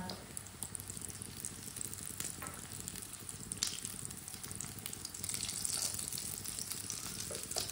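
Gentle sizzling from food frying in a pan, a steady crackle with occasional pops, close up and fairly quiet, no voices.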